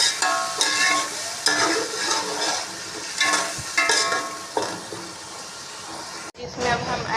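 Ground masala sizzles with browned onions in a hot pan and is stirred in repeated scraping strokes, with a steady frying hiss throughout and a brief dip near the end before the sizzle resumes.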